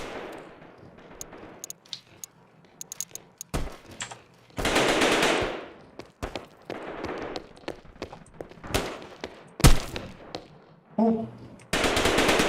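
Gunfire in a first-person shooter video game: bursts of automatic fire and sharp single shots, loud and close, scattered across the clip with brief pauses and a short spoken exclamation.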